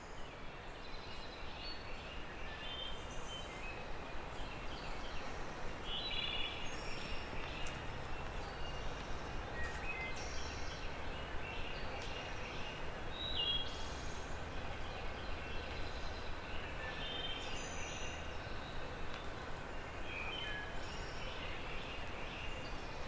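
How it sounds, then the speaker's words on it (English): A rain-swollen creek runs full outdoors as a steady, dense rush of water that fills the whole clip, with birds chirping faintly in short scattered calls above it. "Just the sound of the creek is really full because we've had a lot of rain lately, and all the birds were chirping"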